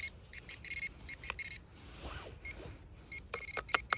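A metal detector sends out clusters of quick electronic beeps at a WW2 dugout dig site, with a soft rustle in between before a faster run of chirps at the end.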